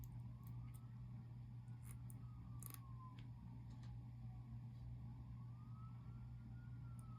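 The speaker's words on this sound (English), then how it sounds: "And you hear the siren." A distant siren wails, rising and falling slowly over a constant low engine hum, faint and far off with no voices.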